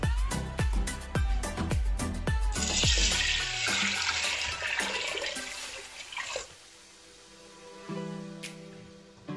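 Water pours steadily into a pressure cooker holding soaked urad dal in a home kitchen, a loud, close gushing splash that thins out and ends, leaving faint clinks and trickles.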